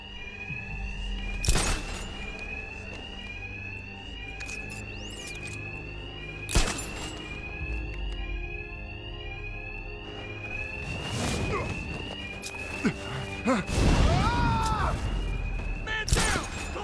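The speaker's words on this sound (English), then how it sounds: "Attacks will be covered by the noise of the alarm." Bank alarm in Batman: Arkham Knight ringing as a steady repeating electronic tone throughout, mixed with loud punches, crashes and impacts from a fight, and voices talking now and then.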